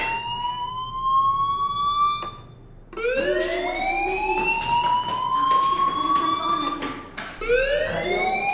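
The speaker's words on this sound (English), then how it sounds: "do you hear that fire alarm? That means you should be outside." A school fire alarm in the Life is Strange video game wails in long rising electronic sweeps, loud and continuous, with a brief dip before restarting.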